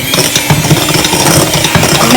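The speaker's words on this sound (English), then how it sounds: "just whisk it again" A whisk stirs a no-bake Oreo cheesecake mixture in a bowl, making loud, steady clicking and scraping with a busy mechanical rattle throughout.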